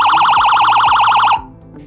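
A Fury 30-watt motorcycle police siren and speaker wails loudly in a fast rising-and-falling yelp for over a second, then cuts off abruptly, leaving a quiet tail.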